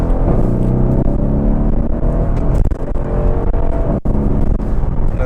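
A Mercedes S212 E63 AMG with a stage 1 tune pulls hard from near standstill in second gear, its engine roaring loud and continuous with a brief dip at a gear change.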